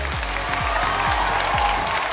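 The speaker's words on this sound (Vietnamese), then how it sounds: "Cùng dành một tràng vỗ tay thật lớn để chào đón nhạc sĩ" Steady applause from a TV show audience welcoming the coaches of a Vietnamese songwriting competition, dense clapping heard over a recurring low rhythmic musical pulse.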